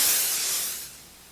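A spray gun hisses as it coats a Christmas tree white, a loud airy spray that fades away within about a second.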